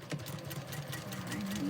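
A sewing machine stitches fabric squares together with a steady, fast mechanical hum and needle clatter. It runs continuously and close, at moderate volume.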